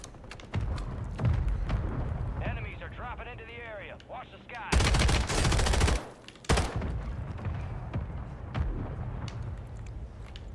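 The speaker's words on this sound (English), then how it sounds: "Mortar strike. Look out." Mortar strike explosions in a video game boom and crackle in heavy, overlapping bursts, loud and close, mixed with rapid gunfire and talk over the top.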